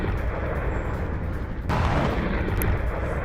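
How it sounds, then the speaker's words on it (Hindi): Repeated blasts from strikes on an island region, heard as a continuous heavy rumble of explosions with a sharper, louder burst partway through, dense and loud throughout with no pauses. "एक के बाद एक कई विस्फोट।"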